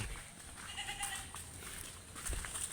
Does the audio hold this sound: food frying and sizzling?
no